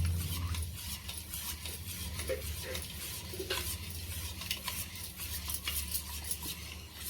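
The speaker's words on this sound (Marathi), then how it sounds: "हे चांगलं मिक्स करायचं असं दोन मिनटं आपल्याला असं चांगलं मिक्स करून घ्यायचं आहे" A spoon stirs curd into warm milk, scraping and swirling steadily against the vessel for several seconds, close and fairly quiet, with a soft continuous swish and occasional light clinks.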